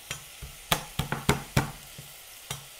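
Minced meat filling being stirred in a pan, a series of sharp spoon scrapes and knocks at an uneven rhythm over a quiet low sizzle, near and without speech.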